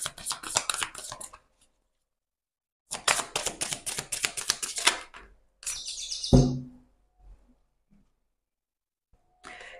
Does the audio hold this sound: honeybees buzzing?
no